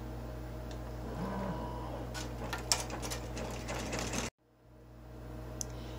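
An in-the-hoop machine embroidery machine stitches placement lines for vinyl windows on a mini bus zipper bag, giving a steady mechanical whir with rapid ticking stitches that cuts off abruptly near the end.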